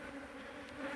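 A swarm of bees at a captured nest hums as a steady, dense drone, close and continuous, with no voices over it.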